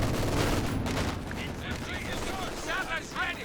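Machine gun and infantry fire in Company of Heroes 2, a busy stretch of rapid gunfire and battle noise, loud at first and then easing under a voice.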